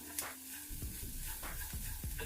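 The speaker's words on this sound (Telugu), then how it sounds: "ఉప్పు వేసుకొని ఇలా ఒకసారి అంతా కూడా కలిపేసుకోవాలి" Salt being stirred into vegetables frying in a pan for lemon coriander soup: a spoon scrapes and stirs a few times over a soft, steady sizzle, close and fairly quiet.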